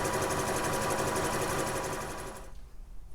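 A sewing machine runs steadily, stay stitching the princess seams of a Vogue 9199 garment, a fast continuous whir for about two and a half seconds that then stops, leaving near silence.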